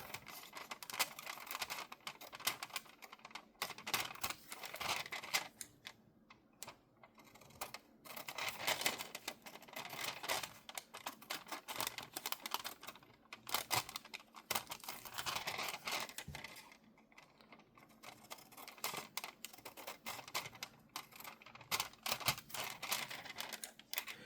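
Scissors snipping through a paper envelope while making a window pocket: a steady run of close, crisp cutting and crinkling sounds for over twenty seconds, with short pauses and no voices.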